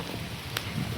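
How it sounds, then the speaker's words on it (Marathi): Heavy rain pours down outdoors during the Pandharpur Wari pilgrimage, a dense, steady hiss that fills the whole moment with no voices. "एवढा प्रचंड पाऊस चालू आहे आता."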